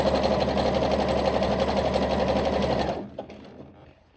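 A sewing machine runs a zigzag stitch along an elastic waistband on a jersey skirt, humming steadily and evenly up close for about three seconds before stopping abruptly, leaving a faint fading rattle.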